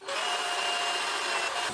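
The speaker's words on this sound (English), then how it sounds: "I'm using real small drill bits for this, because I'm using really small rivets" A small drill bit boring rivet holes with a power drill, a loud steady whine that runs unbroken and close for the whole moment, with no voices over it.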